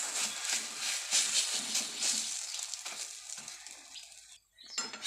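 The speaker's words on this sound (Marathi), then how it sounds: "असं नॉर्मली तेल सोडूया। मगासारखं दोन्ही बाजूने ह्याला पण पलटी मारून शेकून घेऊया।" Uttapam crisping in a shallow layer of oil on a hot pan, a steady bright sizzle with a few scraping turns of the spatula as it is flipped to roast the other side, close and clear with no talk.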